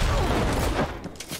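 A grenade explodes in the Cyberpunk 2077 video game: a loud, close, full-bodied blast with a rumbling low end that rolls on and slowly fades over about a second and a half, with sharper crackling near the end.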